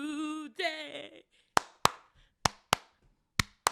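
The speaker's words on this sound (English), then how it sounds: "They're clapping with you" A gospel song's audience claps along after a short stretch of singing voice: six or so sharp, close hand claps land at uneven intervals, each standing out alone.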